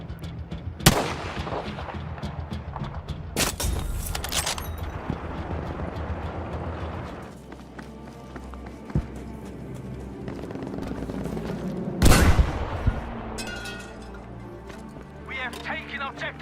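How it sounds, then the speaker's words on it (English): Sniper shots and gunfire in Battlefield 5, with sharp loud reports at intervals amid battle noise and a heavy blast near the end, a voice talking over much of it. "Starting out with this amazing sniper shot from Darren Connor."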